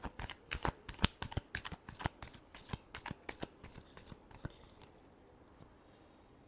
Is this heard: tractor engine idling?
no